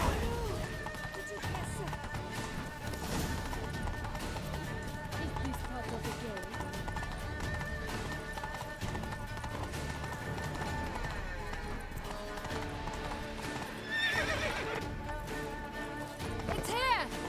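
Horse hoofbeats clip-clop steadily at a gallop in The Witcher 3: Wild Hunt, running continuously beneath game music and talking voices, with a brief whinny near the end.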